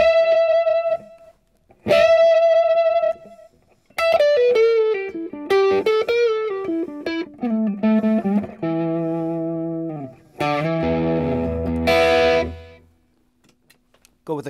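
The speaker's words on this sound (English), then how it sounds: "Now with the delay again." An electric guitar runs through a delay pedal, with a clean tone and a reverb pedal in the chain. It plays a series of sustained notes and descending melodic runs, each phrase ringing on with repeating echoes, loud and close, with no talking.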